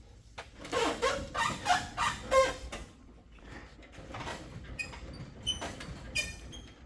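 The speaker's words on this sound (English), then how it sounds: "That's all bushing noise." Front suspension bushings on a 1967 Chevy Nova creak and groan in a series of faint, rhythmic squeaks while the car is driven, with no talk over them.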